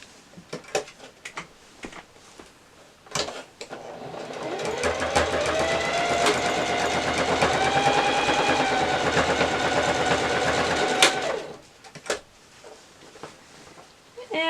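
Sewing machine stitching quilt pieces for an abstract rose quilt, a steady whirring run of about seven seconds, close and fairly loud, with handling clicks and fabric rustle before and after.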